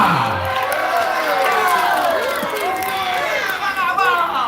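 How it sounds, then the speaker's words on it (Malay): A crowd at a school quiz final in an Islamic boarding school cheers and shouts loudly for the contestants, with sustained overlapping voices filling the room. "penonton back kedua, beri semangat untuk masing-masing peserta"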